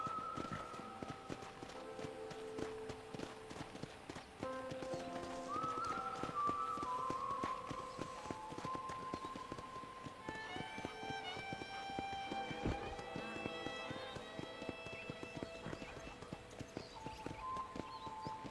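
Horse hooves clip-clop steadily while a horse is ridden around a property in a video game, a quiet running rhythm under a light musical backdrop with occasional tonal notes.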